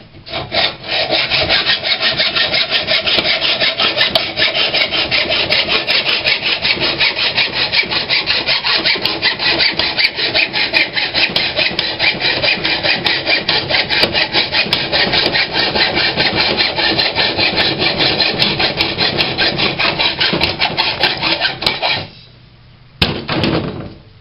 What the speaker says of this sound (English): you can also cut your rod with a hacksaw